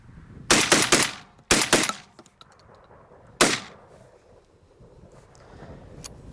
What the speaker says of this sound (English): the last shot I tried there was to not get my shoulder behind it, just to fire it basically down in this position